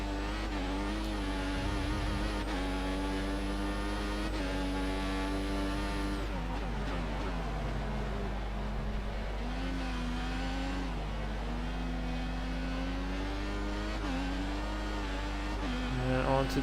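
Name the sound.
race car engine in F1 2014 video game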